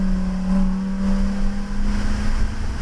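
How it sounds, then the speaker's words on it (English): A Lamborghini Huracan race car accelerates on the track at New Hampshire Motor Speedway, a steady, loud engine drone with a sustained low tone and no voices. "It's like one more car is going to go."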